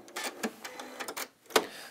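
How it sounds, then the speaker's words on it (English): An Elna 680+ sewing machine stitches along a fold line in quick, light mechanical ticks and short whirring bursts, close and moderately quiet, with a sharper click near the end and no talking. "So all I'm doing now is I'm stitching on that fold line"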